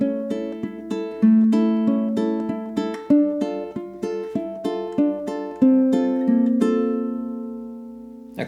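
Ukulele playing the opening bars of the flamenco piece Malagueña, a close, clear run of even eighth-note plucks and chords in a steady triple rhythm, ending on a sustained ringing chord.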